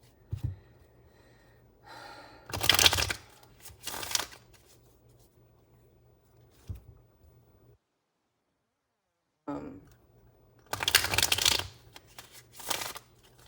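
Tarot cards being shuffled for a clarifier card, heard as close, crisp bursts of riffling and shuffling with pauses and soft breathing between them.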